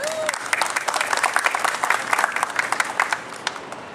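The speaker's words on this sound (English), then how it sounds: "Let's give them a round of applause." Audience applause at a candidate filing event with endorsements, brisk and dense clapping from a crowd lasting the whole stretch at a steady, fairly loud level.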